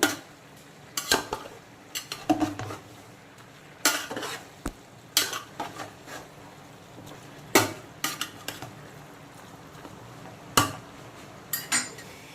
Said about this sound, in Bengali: মাংস আর চিংড়িগুলোকে সমস্ত সবজির সঙ্গে খুব ভালো করে এইভাবে মিক্সড করে নেব